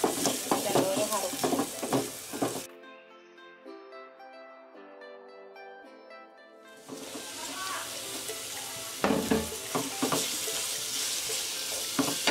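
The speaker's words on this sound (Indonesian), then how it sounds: "Ditumis sampai dagingnya matang." Meat sautéing in a pan for kimchi sundubu-jjigae soft tofu stew, a steady sizzle with stirring scrapes that drops out midway for a quiet musical interlude, then the sizzling and stirring resume.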